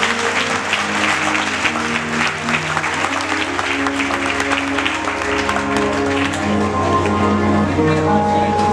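A church congregation applauds, a dense sustained roar of clapping mixed with crowd voices and some music underneath.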